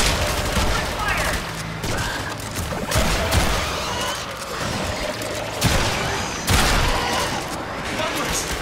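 Troops in the Warframe video game fire in dense, overlapping volleys of rapid gunshots with heavy booming impacts. The shooting comes in loud, continuous waves, and voices shout over the fire.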